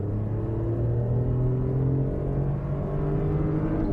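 Small car with an odd idle, either a 1999 Daewoo Matiz or a 2006 Daihatsu Charade, pulling hard in a performance test, a steady engine drone that rises in pitch under acceleration, heard from inside the car.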